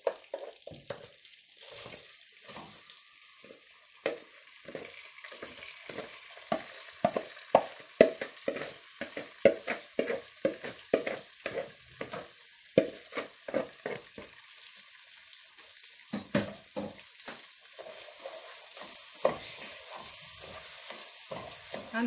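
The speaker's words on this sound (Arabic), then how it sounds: "غنحمروا الرز ديالنا مزيان باش يتلبس لينا بالماده الدهنيه" Rice frying in oil with cloves and cardamom, rhythmic scraping and stirring strokes over a continuous sizzle that grows louder toward the end.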